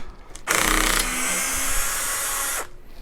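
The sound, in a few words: drill removing screws from amp back plate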